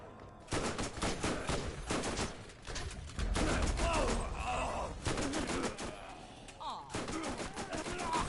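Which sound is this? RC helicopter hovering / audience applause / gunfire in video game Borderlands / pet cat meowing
gunfire in video game Borderlands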